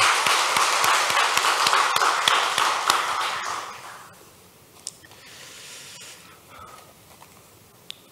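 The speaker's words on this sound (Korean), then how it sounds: "우리 하나님께 영광의 박수를 올려드리겠습니다" Applause rings out from a church congregation during a Korean worship service, a dense wash of many clapping hands for about four seconds, then fading to scattered claps and quiet room tone.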